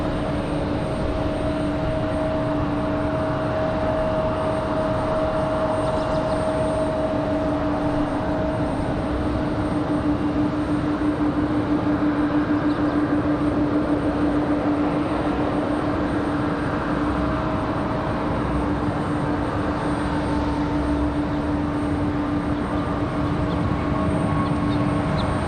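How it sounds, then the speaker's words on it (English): A Delta Airbus A220-100 bound for Minneapolis waits to depart at Raleigh-Durham International Airport, its engines giving a continuous roar with two steady whining tones held throughout. "We've got that Delta A220 up next for departure."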